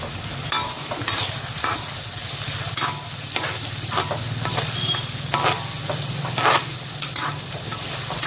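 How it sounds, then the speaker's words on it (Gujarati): Potatoes tempering in hot oil in a pan give a loud, continuous sizzle, with frequent scraping and clacking stirring strokes throughout and no voices. "ચાલો વઘાર કરે છે બટેકાનો"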